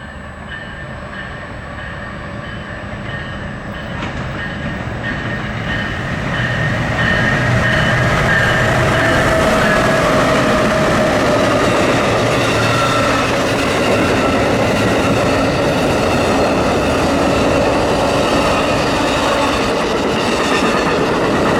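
CPKC Holiday Train locomotive 302 passes on the Chicago Line at night, a loud, steady rumble of engine and rolling cars that swells after the first few seconds and holds near and strong to the end, with faint rail clatter.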